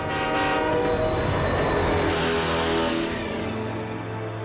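A cartoon express train sounds a long, loud horn while passing close by, with rumbling rail noise and clatter throughout and a rising whistle-like tone in the middle.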